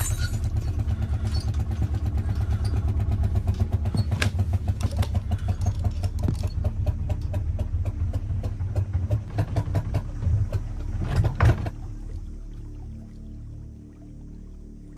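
An engine chugs steadily with a rapid, even pulse for about eleven seconds, then sputters and cuts out, leaving only faint hiss.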